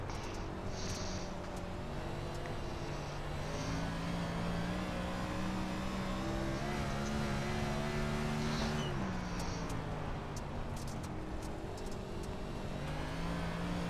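An iRacing NASCAR dirt race car at Bristol Dirt spins out, engine revving hard with a pitch that climbs, drops sharply, then picks up again, loud and continuous with other cars faintly behind.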